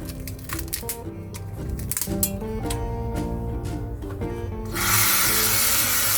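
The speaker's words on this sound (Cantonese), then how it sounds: "我哋將佢略為搣碎，" Dried monk fruit is broken apart by hand, producing close, dry crackling and rubbing shell noises in irregular bursts, followed by a louder hiss at the end.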